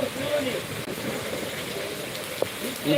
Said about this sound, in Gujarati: તમે લોકો વરસાદ જોઈ શકો તો કેવો છે તે